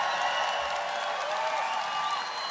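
A rally crowd in Tucson, Arizona applauds and cheers in a dense, continuous wash of clapping and shouts that fills the space, loud and steady.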